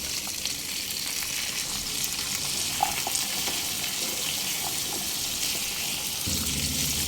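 Cut potatoes with crushed green chillies frying in a pan over a medium flame for a Bengali potato curry, a steady close hiss of sizzling oil with a few faint utensil taps.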